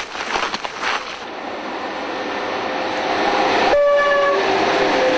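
A train runs along a railway line with a loud, steady rumble and clatter that builds over a few seconds, and a sustained horn blast sounds near the end.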